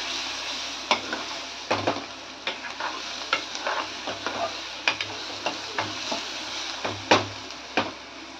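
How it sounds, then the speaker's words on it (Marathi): Onion sautéed with ginger-garlic paste in a pan for chole masala, soft sizzling under repeated scraping strokes of a spoon against the pan, close and steady with no talking. "चांगलं परतून घ्यायचं"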